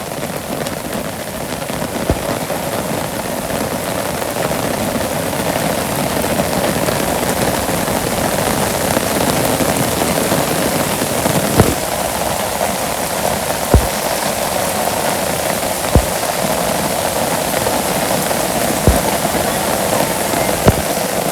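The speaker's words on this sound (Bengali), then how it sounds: "আর যে বৃষ্টি, এটা তো মনে হয় যাওয়ার বৃষ্টিও না" Steady rain falling on a Bangladeshi village, a dense, even hiss of drops on surfaces that runs throughout, with occasional sharper drips or knocks standing out near the end.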